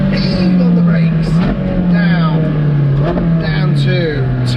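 A Ferrari 458 Speciale Aperta engine drones loudly from close by, dipping as the car brakes and then rising again under acceleration, while someone talks over it.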